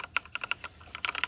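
Rapid clicky keystrokes on a HITIME XVX M61 wireless 60% mechanical keyboard, a quick uneven run of sharp close taps with brief pauses, heard alone without talk.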